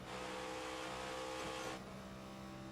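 Race cars lap Charlotte Motor Speedway in the iRacing sim game, their engines droning loudly and steadily, then easing down a little toward the end.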